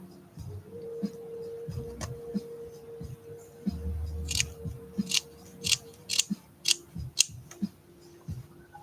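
Scissors snip through a cat's fur during grooming, a run of sharp, close clicks that grow quicker and louder toward the end over a low steady hum.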